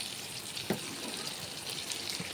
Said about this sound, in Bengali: পটল ভাজাটা নামিয়ে দিয়ে আলু ভাজবো